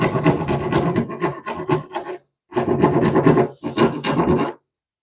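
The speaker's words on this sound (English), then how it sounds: "Just gonna rasp out these corners." A hand rasp files the wooden corners of a router plate opening in short, loud, scraping bursts, three quick strokes, a pause, then several more close strokes.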